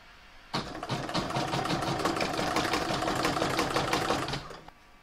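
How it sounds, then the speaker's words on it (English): An embroidery machine stitches a round to secure ribbon on a patchwork star block, a steady fast mechanical chatter that starts abruptly, runs evenly for about four seconds close up, then stops. "I'm now going to pop that into my machine and stitch round number 28, which is going to secure my ribbon"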